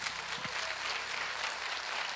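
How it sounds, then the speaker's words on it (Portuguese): Church congregation applauding during a Portuguese-language worship service, a steady dense wash of clapping that fills the short stretch without a break, fairly loud and close. "Bendito, aplauda mais forte."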